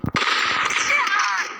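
Gunfire in a shooting video game: a couple of sharp, loud cracks open the moment, then a sustained, bright, ringing burst of shots with a metallic reverberant tail lasting over a second, heard up close with no talk.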